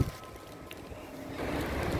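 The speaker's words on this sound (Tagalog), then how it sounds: "Ang lakas-lakas po ng hangin. At medyo malamig." Strong, cold wind rushing steadily past the microphone outdoors, a dense low roar that grows slightly louder near the end, with no talking.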